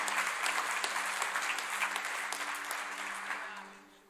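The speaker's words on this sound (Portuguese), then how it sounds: "aplauda o nome do Senhor" Church congregation applauds during a sermon, dense crowd clapping with a faint sustained musical tone underneath, steady at first then gradually dying away.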